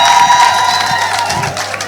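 A crowd at an outdoor cow-giving ceremony in Musanze, Rwanda, claps and cheers loudly for the Vice Mayor, with dense applause, shouts and whoops layered together under a background hum.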